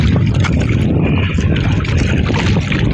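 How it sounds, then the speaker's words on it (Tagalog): Small boat rocking on choppy waves in Manila Bay, with water sloshing and slapping against the hull under steady strong wind buffeting the microphone; loud, continuous and close, with no clear voices. "Ito po yung ating bangka na inuugoy-ugoy ng alon."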